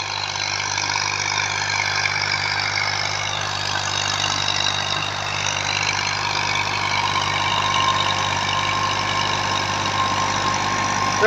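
A 2000-model Massey Ferguson 240 tractor engine idles steadily and close, a continuous even drone with a low throbbing hum running unbroken throughout.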